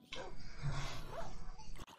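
A dog in a video game whimpers and yelps after being hit, a short strained cry heard amid game noise and faint voice.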